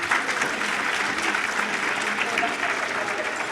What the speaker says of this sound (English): You can give yourselves a round of applause because this room is amazing.